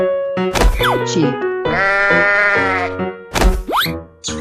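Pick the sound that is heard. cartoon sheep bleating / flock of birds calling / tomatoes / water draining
cartoon sheep bleating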